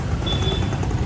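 Steady street traffic noise in the busy Wazirabad market of Nanded, India, a continuous low rumble of engines and vehicles with a faint high whine passing through, no speech.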